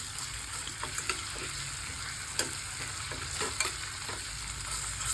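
Browned onion and half a spoon of ginger paste are mixed in a pan for a capsicum masala curry, with a soft sizzle under light, irregular scraping strokes, close and low in level.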